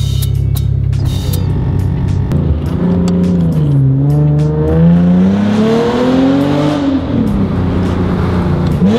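A Nissan 370Z with an automatic transmission is revved against a two-step limiter at night, loud and close, its engine note climbing and falling in sweeping pitch waves over a steady rumble, with sharp crackling pops near the start.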